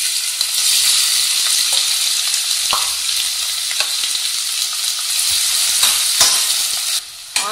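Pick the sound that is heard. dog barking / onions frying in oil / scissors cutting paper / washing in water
onions frying in oil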